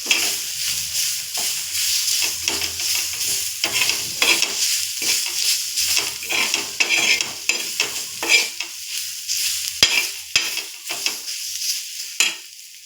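Onions sizzle in a hot pan with salt as they are stirred, a steady close crackle broken by scraping stirs throughout, with no one talking.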